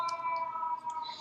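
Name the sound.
sirens outside an open window in New York City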